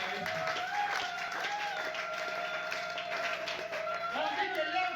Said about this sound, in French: Acclamez Jésus très très fort.